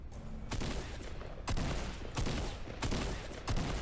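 Gunfire in the Fortnite video game: bursts of rapid shots crackle in several loud volleys separated by short pauses, dense and close, with no talking over them.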